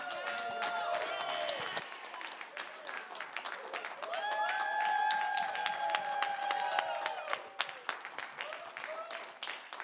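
A church congregation claps in welcome at an evening worship service, steady applause over organ-like sustained tones, with voices and a few cheers mixed in, loud throughout.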